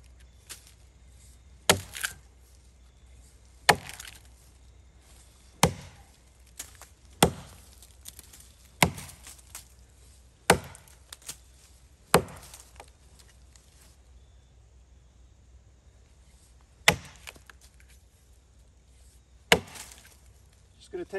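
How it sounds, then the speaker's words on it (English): Wood being split with a Greek pattern axe with a slip-fit long handle, each deliberate blow landing as a sharp, close chop, about ten in all at uneven intervals of a second or two, with quieter pauses between. "Let's chop."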